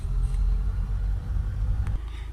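A Toyota RAV4 2.2 D4D diesel with a particulate trap fault out on a drive, giving a steady low engine rumble and road noise from inside the car, with a slight drop in level near the end.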